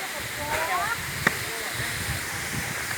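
Steady, broadband rushing of the Mae Kampong waterfall in Thailand fills the clip as a constant roar, with a voice and a brief knock heard over it.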